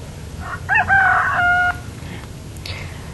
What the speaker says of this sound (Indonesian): Ini ada gambar pitik jago yang bunyinya